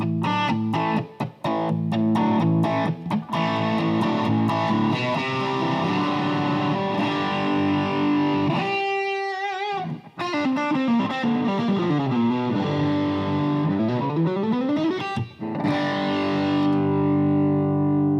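Electric guitar run through two stacked gain pedals, one an Open Road overdrive, giving a thick distorted tone with modulated chorus-like shimmer, sustained chords and bending lead lines, loud and continuous with no talking.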